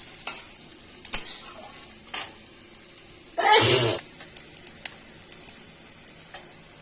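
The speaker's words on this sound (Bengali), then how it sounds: "পেঁয়াজটা একটু লাল লাল করে ভেজে নিব।" Onions browning in a pan for a spicy piyali fish curry, mostly a quiet low sizzle punctuated by a few short stirring clacks and one louder hissing burst midway, with no talking.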